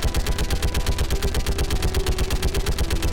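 A Mass Effect 3 shuttle-mounted turret fires in a steady, rapid, unbroken stream of loud pulsing shots for a few seconds, with no voices over it.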